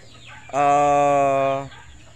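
One drawn-out vocal call from a chicken in a coop, a single loud, tonal cry lasting about a second with faint background noise around it.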